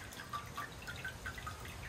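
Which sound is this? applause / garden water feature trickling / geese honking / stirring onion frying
garden water feature trickling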